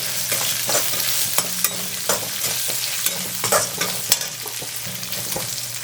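Shallots frying in oil together with roasted garlic, with a steady close sizzle and repeated sharp scrapes and clatters from stirring in the pan, and no speech.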